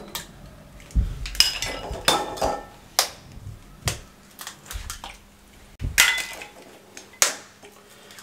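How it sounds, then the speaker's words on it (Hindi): Five eggs cracked one after another into a bowl for a Spanish omelette, with sharp shell taps and clinks against the rim recurring in an irregular rhythm, close up and without talk. "स्पेनिश आमलेट बनाने के लिए इसके साथ का बॉल ले लें, इसके अंदर 5 अदद अंडे फोड़ दें"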